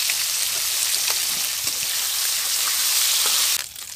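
Small fish sizzle steadily in hot oil in a pan in a village kitchen, a continuous crackling hiss with faint pops that drops off briefly near the end.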